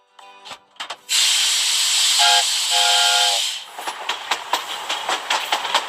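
A steam train whistle blows loud and sustained for a few seconds with a broad hiss of escaping steam, preceded and followed by rapid clicks and hissy bursts, heard alone without talk.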